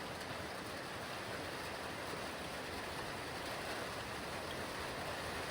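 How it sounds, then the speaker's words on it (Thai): Heavy storm rain pours down in a dense, steady hiss with no break, a constant wash of noise sounding fairly distant and even throughout; no one speaks over it. "ฝนตกฝนมาแรงนะครับ พายุฝนมาแรงนี่คุณผู้ชมครับ"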